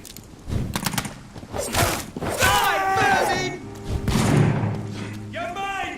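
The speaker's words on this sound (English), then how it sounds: "Grenade!" A grenade goes off amid gunfire in the vampire action game Vampyr, heavy thumps and bursts of shots crowding together with shouting voices over a busy battle.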